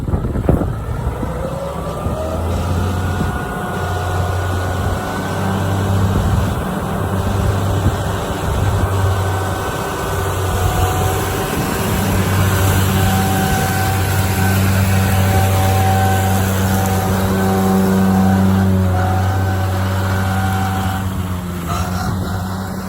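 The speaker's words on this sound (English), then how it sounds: "Arthur, jump on your tractor and we'll watch you" A tractor engine drones steadily nearby during haymaking for a long stretch, its pitch rising and falling as it revs, with wind rumbling across the microphone.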